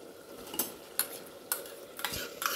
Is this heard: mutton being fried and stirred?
yes